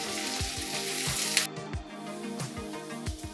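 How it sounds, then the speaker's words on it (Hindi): Chillies fry in hot oil over a medium flame, giving a steady, close sizzle with a short hiss and soft spoon knocks against the pan. "अब हम इसमें डालेंगे मिर्ची, और इसको लगभग हम 5 मिनट तक पकाएंगे मीडियम फ्लेम पर।"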